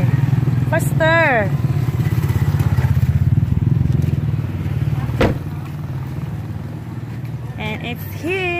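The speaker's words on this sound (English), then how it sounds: "There's a motorcycle." A motorcycle engine drones steadily nearby by a seaside road, its hum fading after a few seconds, while a child and an adult talk over it and a brief sharp bang cuts through.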